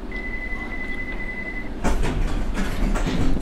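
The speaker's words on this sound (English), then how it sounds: "This train is ready to depart. Please stand clear of the doors." London Underground Circle Line train in the game World of Subways 3, a steady humming tone from the stopped train that gives way to louder rumbling and rattling as the train pulls away.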